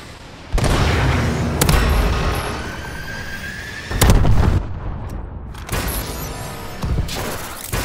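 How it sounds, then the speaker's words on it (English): Missile strike explosions from a killstreak in Call of Duty: Advanced Warfare thunder in loud, heavy bursts, several booming impacts in succession with rumbling tails between them and no talk. "Friendly missile strikes incoming."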